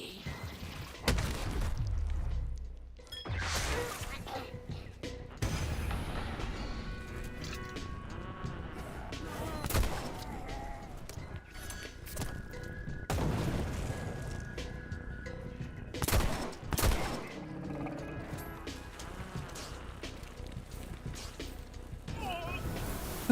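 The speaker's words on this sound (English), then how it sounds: "Feels good to use a shotgun for once." Shotgun blasts in the zombie game Dead Island 2, several loud booming shots spaced irregularly over a busy background of game effects and scuffling, with a voice talking intermittently.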